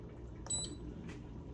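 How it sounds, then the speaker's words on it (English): A rice cooker gives a short electronic beep, then a fainter second one, over low kitchen hum while rice for jambalaya finishes cooking. "And it'll beep when it's ready."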